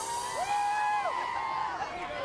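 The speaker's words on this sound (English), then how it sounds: "The crowd on the shore here, Rip Curl WSL Finals, Brazilian flag supporting the defending world champ Felipe Toledo" Distant crowd cheering and whooping from the shore at the Rip Curl WSL Finals surfing contest, with Brazilian supporters, a continuous roar of voices.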